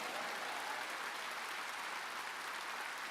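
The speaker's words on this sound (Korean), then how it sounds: "깨달았으면 박수 쳐라 이게." During a Sunday afternoon church service, the congregation claps in a faint, dense, unbroken wash, steady from start to finish and heard from some distance.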